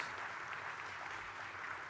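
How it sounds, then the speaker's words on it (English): Audience at a county State of the County Address applauds the sponsors, a steady, moderately loud wash of clapping with no voices. "let's give all of our sponsors a round of applause"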